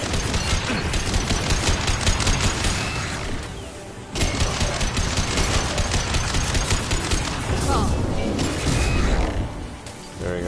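Sustained gunfire in the sci-fi shooter Mass Effect 2, loud rapid shots in dense bursts with a brief lull near the middle, over clanking and other combat noise.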